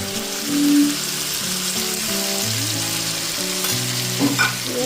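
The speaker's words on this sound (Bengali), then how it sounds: "এইরকম ভাজা হয়ে গেলে আমি পেস্ট করা টমেটো, আদা, লঙ্কা, পেঁয়াজ, রসুন এটাকে আমি দিয়ে দেবো" A paste of tomato, ginger, chilli, onion and garlic sizzles loudly in hot oil alongside frying mushrooms, a steady crackle with a few louder spits and stirring scrapes, no voices.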